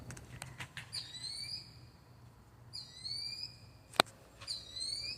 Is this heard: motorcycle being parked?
no